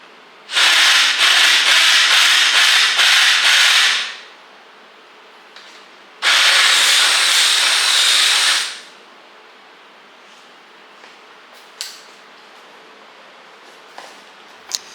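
A hand file smoothing a sharp edge on a Specialized bicycle part, with two loud, steady rasping passes of about three seconds each, then near quiet broken by a few faint clicks.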